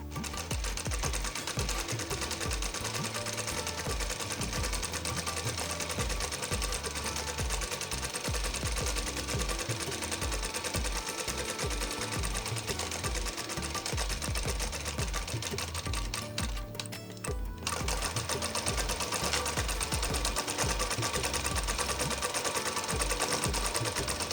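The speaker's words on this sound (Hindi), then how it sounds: "हम दूसरे साइड की भी सिलाई वैसे ही चेस्ट से लेकर के हिप तक कर देंगे।" A sewing machine stitches the side seam of a kurti from chest to hip, a continuous close rapid mechanical whirring with a very brief pause near the end before it resumes.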